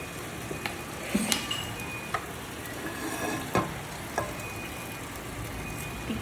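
A tea-time snack shallow-fries in coconut oil in a pan with a continuous close sizzle, broken by several sharp clicks and scrapes of a spatula turning the pieces.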